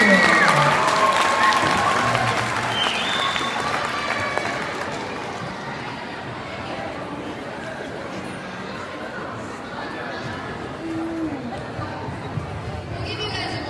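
A crowd applauds steadily with cheers and chatter at a school district multicultural celebration in Unalaska, Alaska, the clapping slowly fading into continuous background hubbub.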